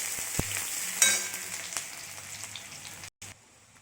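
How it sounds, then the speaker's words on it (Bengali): Chopped onion fries in fish oil, a constant crackling sizzle with a few sharp stirring knocks and scrapes near the start, then a brief cut-out near the end. "এটা ততক্ষণ লাল করে ভাজা হোক।"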